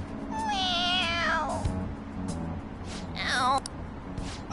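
Cat meowing twice, two distinct rising and falling meows close and clear, separated by a brief pause, with faint background sound between them.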